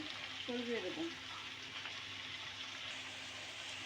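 Shredded cabbage and potato are tipped into a pan of fried shrimp, giving a brief rustling burst over a steady, even sizzle of hot oil that continues throughout.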